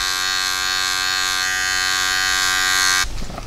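Electric hair clippers with a plastic guard open fully buzz steadily at close range while cutting hair for a taper fade, then the drone drops off near the end as the cut stops.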